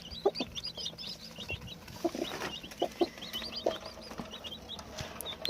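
A hen clucks repeatedly close by, short rhythmic calls over a steady farmyard background, with faint higher peeps from small chicks nearby and no talking.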